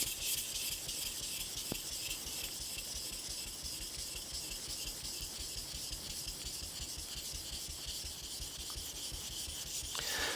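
A blade is polished on a Binsui Nakatoishi Japanese natural whetstone, giving a steady, close, gritty rubbing and rasping that continues without pause and without talk.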